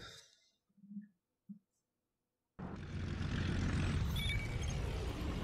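A WWII propeller plane engine in the Wings of Prey game kicks in abruptly after a near-silent stretch with brief muffled thumps, then drones loud and steady to the end.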